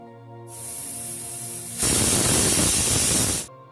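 Pressure cooker holding mutton curry on a medium flame whistles as steam escapes, a steady loud hiss that swells abruptly to a fuller, harsher rush before cutting off.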